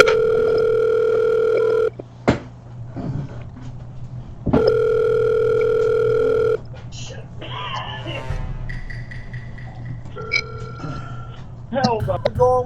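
A telephone call is answered: two long, loud steady tones ring out with a pause between them, followed by short electronic beeps and clicks while a person talks over the line.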